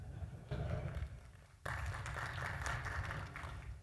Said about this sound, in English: feel free, go applaud that